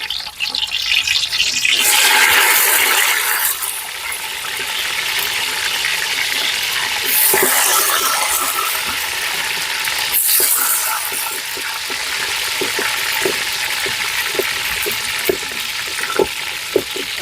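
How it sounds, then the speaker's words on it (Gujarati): Pigeon pea grains hitting hot peanut oil in a pan over a rustic clay stove: a loud, steady hiss and sizzle with crackling bursts, fading to gentler bubbling and pops. "આપણે તેલ આવી ગયું છે આપણે થોડાક હવે તૂરના દાણા નાખી દેવાના છે"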